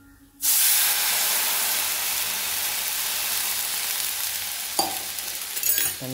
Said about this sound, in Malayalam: രണ്ടര ഗ്ലാസ് വെള്ളം ഒഴിക്കും.